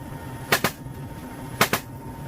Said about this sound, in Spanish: un helicóptero disparando ahí el rebote de las balas en el agua